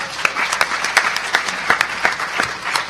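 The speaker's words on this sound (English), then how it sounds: "That gets an applause right there, honestly." Audience applause at a hacker conference talk on lockpicking and locksport, a moderate crowd clapping with distinct individual claps standing out, steady for a few seconds.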